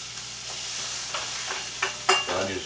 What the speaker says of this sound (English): I'm going to take these onions that I've already sauteed to translucent